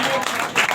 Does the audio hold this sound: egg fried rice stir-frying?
no